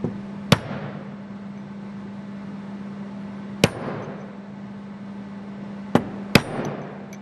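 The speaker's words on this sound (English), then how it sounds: "Remove bearing for turbine shaft and gently use the mandrel." Turbine shaft bearing of a TJ20G unit being tapped out with a mandrel: four sharp metallic hammer strikes, two spaced far apart and two close together near the end, over a steady low machine hum.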